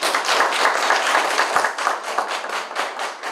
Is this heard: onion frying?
no